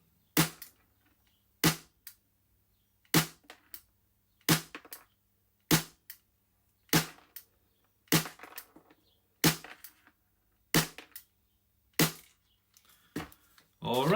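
Ten sharp shots from a Tokyo Marui Glock 17 Gen 5 airsoft gas pistol running Ultra Air gas, fired singly at a steady spaced rhythm, each a loud close crack with brief decay.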